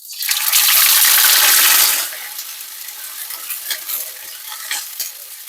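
Food lands in hot oil for a Sicilian sparacelli soup and erupts into a loud, close roar of frying that lasts about two seconds. It then settles into a softer, continuous crackle with scattered pops.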